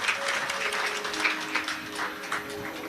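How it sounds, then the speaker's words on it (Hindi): Applause greets the hosts at a Hindu Shiv Mahapuran katha gathering in Korba, with a crowd clapping steadily throughout, dense and moderately loud, and no talk over it. "एक बार इन सभी के लिए जोरदार ताली बजाकर स्वागत अभिनंदन।"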